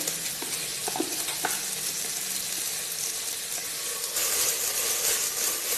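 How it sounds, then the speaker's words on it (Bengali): Washed and drained rice frying in oil inside a pressure cooker, a steady close sizzle with scraping stir strokes early on, the hiss brightening toward the end. "এবার আমি এখানে ধুয়ে ঝরিয়ে রাখা চাল ভালোভাবে দিয়ে একদম সুন্দর করে ভেজে নেব"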